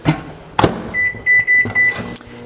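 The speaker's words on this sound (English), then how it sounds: "we're gonna microwave it for a couple of minutes" A microwave oven being set to cook squash: a couple of sharp clicks, then a run of evenly spaced electronic beeps over a soft, steady background.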